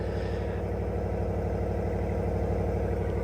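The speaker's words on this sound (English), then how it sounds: "That's a really nice throaty sound from that exhaust." A 2024 RAM 1500 Limited Night Edition pickup idles steadily, a deep, throaty engine with a low, even rumble and pulsing exhaust, continuous and fairly close throughout.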